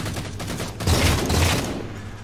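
A regular assault rifle in the video game Halo 4 fires a rapid automatic burst, loud and close, with the rattle swelling in the middle of the stream.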